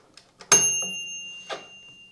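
The timer bell of a Tefal Easy Fry & Grill EY5018 air fryer gives a single bright ding with a lingering tone, preceded by a couple of soft clicks and followed by a fainter knock.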